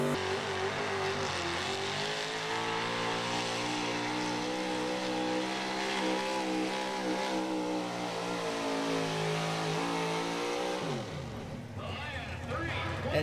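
Big block 4x4 pulling truck engine at a truck pull event in Fishersville, Virginia, loud sustained revving during the pull run, pitch climbing steadily before dropping off sharply near the end.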